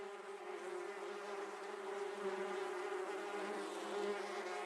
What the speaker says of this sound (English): it's Yellow Jackets